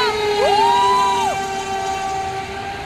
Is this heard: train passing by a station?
yes